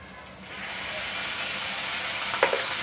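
Broccoli is added to onions already fried golden brown in a pan, and the frying sizzle rises into a steady hiss with a faint clink near the end.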